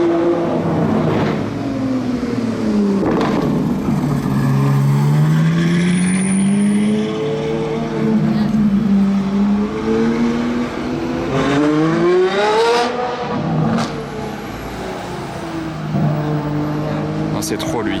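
A Ferrari Daytona SP3 fitted with a Novitec open exhaust drives through a hairpin, its engine rising and falling in loud revving sweeps as it passes, while spectators talk excitedly over it.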